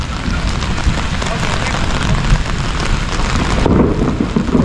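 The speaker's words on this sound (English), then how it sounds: "I don't like walking in the rain with thunder and lightning and carrying an umbrella" Steady rain pours close by at a Guatemala–Belize border crossing, a dense continuous hiss with wind buffeting the microphone; no distinct thunder clap stands out, and the texture shifts slightly near the end.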